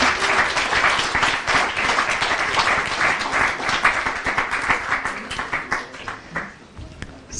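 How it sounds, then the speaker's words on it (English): An audience applauds at a demo day event, a dense burst of clapping that stays full, then thins and fades toward the end. "please give her an applause"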